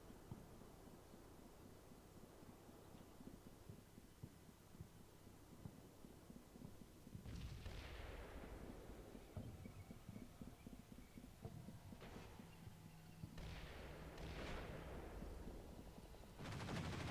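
Distant artillery and gunfire from the wargame Combat Mission: Shock Force 2, several sharp blasts and rumbling bursts rising out of low wind-like ambience in the second half, no voices.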